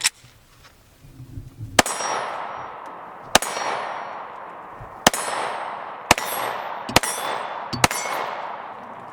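Six shots from a Glock 43 9mm pistol strike a distant steel gong target, each one a sharp crack followed by a bright metallic clang that rings out, spaced at uneven intervals of roughly one to two seconds.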